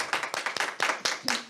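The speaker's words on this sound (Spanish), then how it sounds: "la despedimos con un fuerte aplauso" Audience applause at a Catholic prayer gathering, a short burst of fairly close, distinct claps with uneven rhythm, briefly joined by a faint tone.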